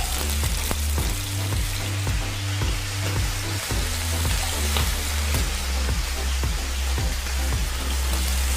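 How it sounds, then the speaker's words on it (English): Chicken fries in hot oil with a steady, loud, close crackling sizzle that continues throughout over background music. "Make sure that it's nice and hot so that it gives a very nice sizzling, nice coat to your chicken"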